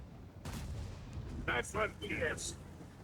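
Two heavy tank cannon blasts about a second apart in World of Tanks, booming over a rumbling engine background, with a voice talking briefly alongside.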